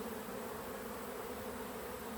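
Honeybees buzz around an opened beehive in a dense, even drone, with many wings humming together close by and no voices.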